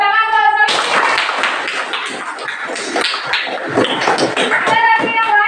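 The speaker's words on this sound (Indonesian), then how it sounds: "Ya, tepuk tangan buat Savitri" A classroom of students bursts into clapping after a lesson on kidney excretion, a close, lively round of uneven claps that starts abruptly and fades, with voices heard before and at the end.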